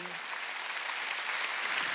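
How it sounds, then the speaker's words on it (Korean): A church congregation at a Sunday worship service breaks into dense, sustained applause, many hands clapping together in a loud, continuous wash that fills the room for the full two seconds. "믿으면 박수치라"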